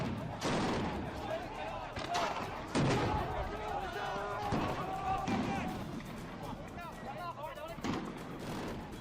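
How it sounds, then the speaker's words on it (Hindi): Sharp bangs of gunfire from security forces crack out repeatedly amid a noisy, chaotic crowd near the American embassy, with voices shouting underneath the shots. "सुरक्षा बलों को गोलियां चलानी पड़ रही हैं।"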